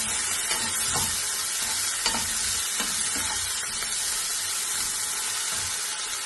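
Chopped tomato frying in a pan, with a steady hiss of sizzling and periodic scraping as it is stirred, close and fairly loud, with no talk.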